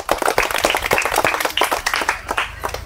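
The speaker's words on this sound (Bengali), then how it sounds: "হাততালি" Audience clapping for a contestant at a televised candle game show, a brisk burst of many hands patting at close range, lively and uneven, lasting a few seconds with no talk.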